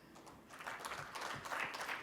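Audience applause at a school leadership summit in Assam, a steady wash of many hands clapping at moderate distance, holding fairly even for about two seconds without talk.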